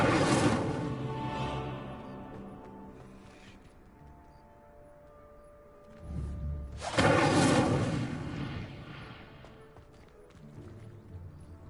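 Incendio fire spell cast in the video game Hogwarts Legacy: a broad whooshing roar that swells and fades, then a heavier thumping burst of flame about halfway through that trails off into a lower rumble.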